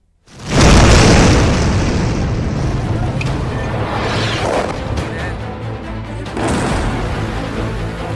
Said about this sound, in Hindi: रावलपिंडी नूर खान एयरबेस पर धमाका हुआ